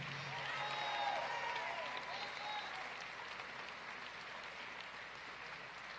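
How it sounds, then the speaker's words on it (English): A crowd applauds steadily, a dense wash of clapping that swells early and then holds at a moderate, slightly distant level. "Give Jonathan Jackson another great round of applause for delivering our family message to the world."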